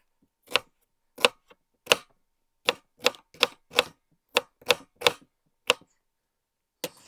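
A knife dices onion into small half-inch pieces on a cutting board, a dozen or so crisp, sharp chops in an irregular rhythm separated by short silences.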